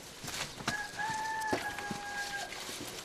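Chickens clucking in a rural outdoor setting, with a few short clucks and a drawn-out tonal call rising above faint background noise.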